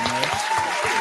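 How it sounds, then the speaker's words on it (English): An audience breaks into a short burst of dense, steady clapping, close and loud, lasting about a second. "definitely want to give a huge round of applause for Ashley"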